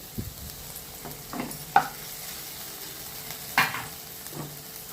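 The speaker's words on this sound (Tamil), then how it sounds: "ஒரே ஒரு தக்காளி பிழிஞ்ச மாதிரி போட்டு வதங்கணும் நல்லா." A squeezed tomato sautéing in a pan with curry leaves and coriander for village-style cabbage koottu: soft frying and scraping stir strokes, with a few sharper spatula clinks, close and moderately quiet, no talking.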